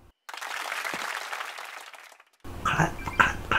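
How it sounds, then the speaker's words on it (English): Video game applause from Super Mario Maker 2: a burst of crowd clapping at the end of a level, fairly quiet, followed by a brief bright jingle. "Clap, clap, clap."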